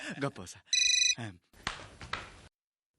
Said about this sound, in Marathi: एक मिनिट ऋतू, रिंकूचा फोन आहे.